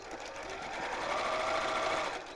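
A domestic sewing machine runs in one steady, continuous burst of stitching, close and fairly loud, used for a half-yard sewing project with a back stitch at the line. No one speaks.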